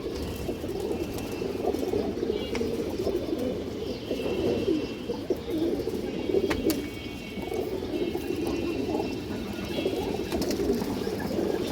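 Pigeons coo steadily at close range, soft low rolling calls overlapping in a continuous murmur with occasional faint clicks and rustles.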